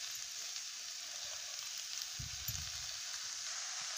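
Brinjal and tomato frying in oil over a low flame, a steady soft hiss of sizzling throughout with a few low stirring bumps partway through, no voices.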